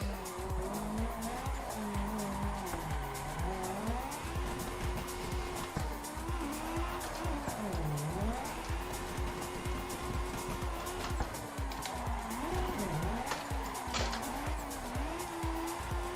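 A Nissan Silvia on VDC tires drifts in the Assetto Corsa racing game, its engine note rising and falling while long tire squeals wail continuously throughout, loud and steady with no talk.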